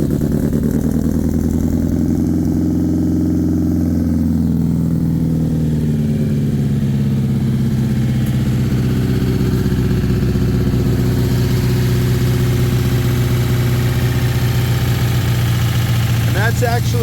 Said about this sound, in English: Ignition, fuel pump, choke, power to the ignition, push button, hope for the best.